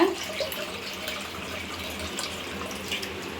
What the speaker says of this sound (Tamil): இப்போ கரைச்சி இன்னொரு பாத்திரத்துக்கு மாற்ற போகிறேன் நல்லா ஒரு ரெண்டு தடவை கரைச்சிட்டு வடிகட்டிக்குங்க